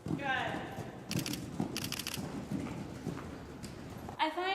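Horse hooves clip-clop steadily over ground during bareback grid jumping lessons with no bridle or saddle, a close, regular rhythm of thuds with brief bursts of other noise, alone without talk.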